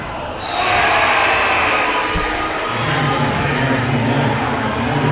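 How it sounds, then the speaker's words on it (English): A loud high school boys varsity basketball crowd roars and yells in a packed gym, the din swelling after a brief quieter start and holding steady, with a thud near the middle. "And the crowd will go loud to try to stop the momentum."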